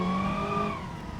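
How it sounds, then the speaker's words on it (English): Car tires screeching in BeamNG Drive, a whining squeal that slides slowly down in pitch over engine noise before fading. "Screech a little bit of tires."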